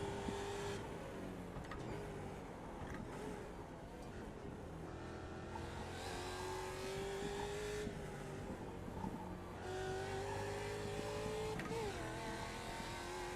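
Race car engine on the Imola circuit in the racing sim Automobilista (AMS), a steady engine drone with rising pitch sweeps as the car accelerates through gears, heard alone without talk.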